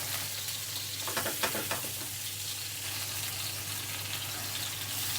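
Steady sizzling of chicken searing in a hot frying pan, a constant crackling hiss with a low hum underneath and no talking.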